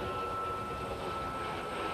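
Army Gazelle helicopter of the Silver Eagles team flying a display at an air show, a steady distant engine and rotor drone with a faint whine, continuous and unbroken.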